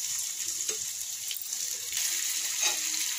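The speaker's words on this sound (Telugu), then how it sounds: "ఈ అల్లం వెల్లుల్లి పేస్ట్ వేగిపోయిన తర్వాత ఈ అల్లం పేస్ట్ కూడా వేగిపోయిందండి" Ginger garlic paste fries in a pan with a steady, close sizzling hiss and faint stirring knocks, no voices.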